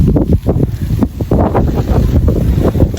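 Strong outdoor wind gusts buffet the microphone in a low, continuous rumble after light rain, fluctuating in force throughout.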